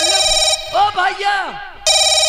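A telephone rings with a steady electronic trill, stops while a voice speaks briefly, then resumes ringing loudly.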